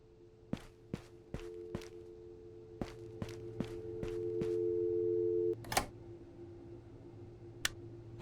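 A steady electronic line tone from a broken payphone in the Radiolight video game holds for about five seconds and then cuts off with a click. Sharp, regular footstep-like ticks sound over it throughout.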